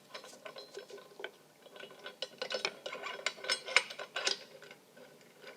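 Ratchet wrench tightening rear alternator bracket bolts on an All American Billet small block Chevy engine, rapid clicking bursts in uneven strokes, close and fairly quiet, with no talking.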